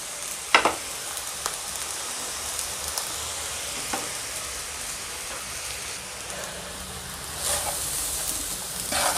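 Chicken fried rice with vinegar, soy and chilli sauces stir-fried over a high flame, a steady close sizzle with a few sharp scrapes and clinks of the utensil, no voices.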